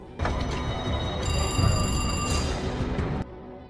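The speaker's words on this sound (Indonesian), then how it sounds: "telepon yang dia nanti-nanti dari Mary Cruz bersamaan dengan datangnya polisi" Telephone ringing in a Prison Break scene, a loud, steady electronic ringing tone holding for about three seconds over a rumbling background, then cutting off abruptly.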